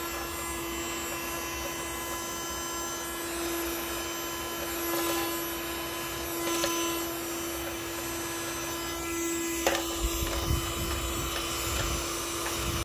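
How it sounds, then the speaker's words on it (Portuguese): A household vacuum cleaner sucking up dust in a tight corner of a home, a steady close whining drone with a constant tone and a few bumps and clatters toward the end. "Então, eu vou ter que me conformar em aspirar só aqui, ó."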